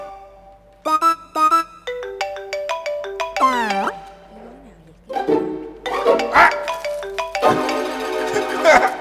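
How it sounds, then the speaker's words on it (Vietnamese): A phone ringtone chimes from inside a gift box in a comedy sketch, a bright melodic tune repeating in bursts, first alone and then under lively overlapping voices and music-like clatter. "Đổ chuông rồi nè."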